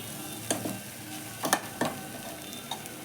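Food frying in a pan is stirred with a spoon, giving a soft sizzle under a few sharp scraping clinks spaced unevenly, with no voices.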